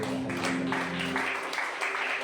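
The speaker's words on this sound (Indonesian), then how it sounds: "Tepuk tangan bagi Allah" Church congregation clapping during a Sunday worship service, a dense wash of applause that fills the whole moment with a faint tonal hum beneath it.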